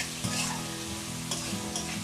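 Ingredients frying in hot oil for a dhaba-style mixed dal tarka, a steady close sizzle broken by a few sharper stirring scrapes, with no talk.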